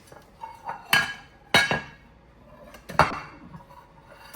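Buttermilk cornbread is turned out of a well-seasoned cast-iron skillet onto a plate, giving three distinct clanks and knocks of heavy iron against crockery, spaced apart, with quiet scraping in between.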